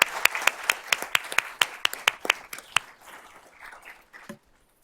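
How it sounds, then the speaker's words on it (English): Applause at a school board of trustees meeting: a run of distinct, sharp claps, fairly sparse and spaced, tapering off and ending with a final clap and silence. "Let's give him a big round of applause."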